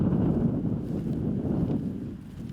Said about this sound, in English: As that was really the case with these winds, just not steady at all, just kind of gusting here and there.